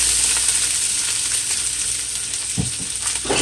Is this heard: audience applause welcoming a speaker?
no